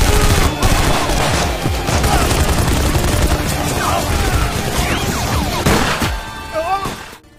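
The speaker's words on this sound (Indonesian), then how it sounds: "Japan pun langsung mengeluarkan machine gun emasnya" Sustained burst of gunfire from a golden machine gun in an action film shootout, dense rapid shots with booming impacts and crashes filling nearly the whole stretch before fading near the end.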